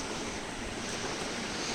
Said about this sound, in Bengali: এখানে পানি অ্যাড করা হলো